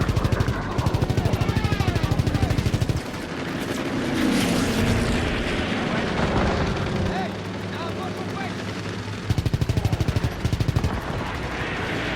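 Rapid anti-aircraft gunfire in a Call of Duty level comes in loud, dense bursts at the start and again near the end, separated by a stretch of booming rumble and explosions, all close and intense.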